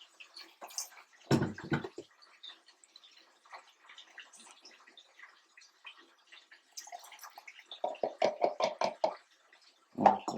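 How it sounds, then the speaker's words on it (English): Water splashes and trickles in short bursts into a blood orange juice mixture, with a few knocks and gurgles between quieter pauses. "Just give it a little bit of water."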